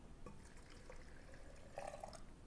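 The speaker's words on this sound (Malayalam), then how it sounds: "ഇനി ഇതിലേക്ക് ഉപ്പുവെള്ളം ഒഴിച്ചു കൊടുക്കാം" Salt water trickles and drips into a container of stored mangoes, a soft, quiet pour with small splashes and a slightly louder gurgle near the end.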